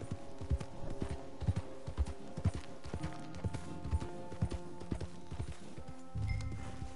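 Horse hooves clip-clop in a steady trotting rhythm in Red Dead Redemption 2, close and clear throughout, with a brief heavier rumble near the end.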